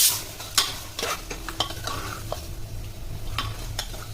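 Mutton gravy sautéing in a pan, with a spoon stirring and scraping in brisk strokes over a low, steady sizzle, close and fairly quiet.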